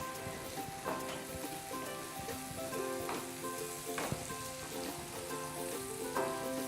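Onions frying in a pan on the stove, a steady soft sizzle with occasional spatters and light stirring taps, heard close over a faint hum of background music tones.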